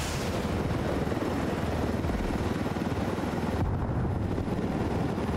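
A helicopter in the video game Ghost Recon Wildlands, with a loud, dense, continuous rotor roar and rumble that stays steady throughout and drops slightly in its upper range near the end.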